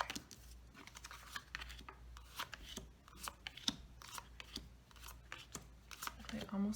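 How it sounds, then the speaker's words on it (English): Tarot cards drawn and shuffled by hand, a run of soft papery flicks, slides and taps coming close and quiet in an uneven rhythm, with a low steady hum beneath. "So I'm going to be drawing cards"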